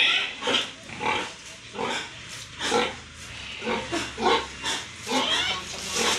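A crowd of pigs grunts and snorts nearby in a rhythmic stream of overlapping oinks, rising and falling over several seconds.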